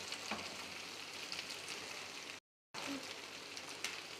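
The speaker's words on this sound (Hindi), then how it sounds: "जितनी देर में भिंडी फ्राई हो रही है" Okra (bhindi) frying in a pan gives a steady, close sizzle and crackle that runs throughout, with a brief cut to silence midway before the sizzling resumes.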